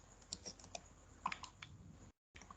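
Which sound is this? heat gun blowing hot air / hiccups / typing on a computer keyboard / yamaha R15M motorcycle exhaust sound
typing on a computer keyboard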